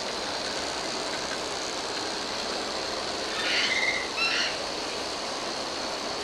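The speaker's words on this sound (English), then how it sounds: "And here on the first loop, the train is crossing over itself." A model train runs around a loop on a garden railway layout and crosses over itself. A steady, even rolling hiss carries through the clip with a brief metallic ratcheting clatter midway, fairly close and without talk.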